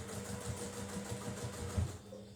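A sewing machine stitching the seam of a fabric bag, a soft, low motor hum with a quick rhythmic needle chatter that surges and eases as the fabric is guided around, quiet and close.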